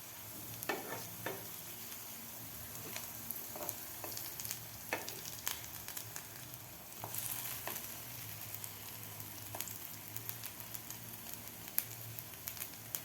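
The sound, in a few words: potato bites (aloo bites) shallow frying in a pan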